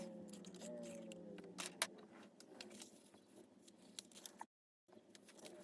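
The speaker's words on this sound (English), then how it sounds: "I think I'm gonna go ahead and cut this little descriptive piece off." Scissors snip a small paper piece for a junk journal, close quiet crisp cuts and rustling paper in a faint room, with a brief dropout near the end.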